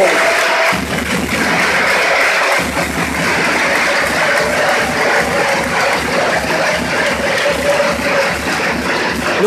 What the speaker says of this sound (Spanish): a recibir el aplauso del público alicantino.